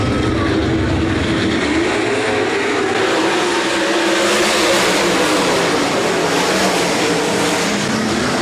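360 sprint cars roar around Rapid Speedway's turns after a restart, several engines blending into a loud continuous howl with rising and falling pitch as the pack passes, with no talking.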